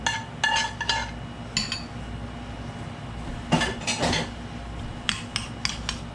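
A utensil scrapes and clinks against a dish while stirring a compound butter mixture with lemon juice, garlic, shallot and Pernod for escargots; scattered sharp metallic taps come in small clusters, fairly close, with no talking.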